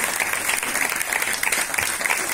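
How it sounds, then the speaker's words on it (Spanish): Brief burst of audience applause for a Ukrainian family duet in the Canary Islands, close, lively clapping that stays full and even for a couple of seconds. "Un aplauso."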